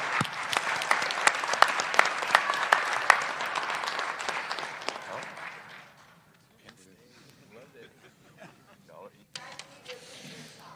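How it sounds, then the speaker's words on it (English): An audience at a college football Hall of Fame awards press conference gives loud applause to the 2024 inductee class, then the clapping fades into quiet room noise with a few scattered voices and stray claps. "let's give a big round of applause to our 2024 Hall of Fame class"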